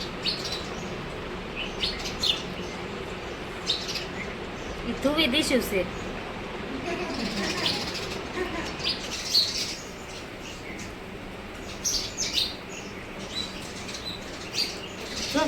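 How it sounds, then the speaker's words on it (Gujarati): Sparrows chirp and flap their wings in a busy, continuous flutter, with bursts of tweets rising and falling close by, while a person talks over the birds. "આ જો ચકલા બાજ્યા બધા."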